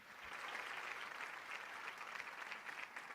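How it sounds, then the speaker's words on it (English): An audience at an aerospace and defence awards ceremony gives a steady round of applause for the jury members, dense even clapping throughout, somewhat distant and soft. "a huge round of applause for all the jury members"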